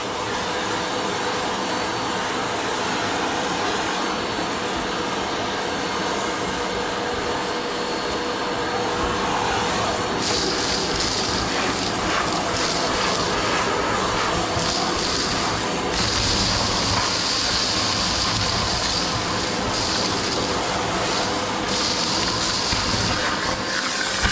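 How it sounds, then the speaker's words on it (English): A vacuum cleaner hoovers up soot and cobwebs after a gentle sweep of a chimney serving a gas fire, a loud steady whine and roar running without a break, its pitch shifting slightly as the nozzle moves. "Hoover up what you can."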